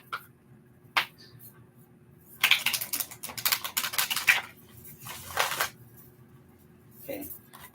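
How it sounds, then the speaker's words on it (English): Tarot cards being shuffled by hand in a quiet room, giving a few sharp flicks followed by bursts of riffling and shuffling, then a softer shuffle near the end. "So I'm shuffling my tarot cards here."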